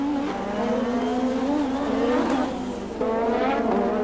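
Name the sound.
Formula 1 race car with punctured tyre entering the pits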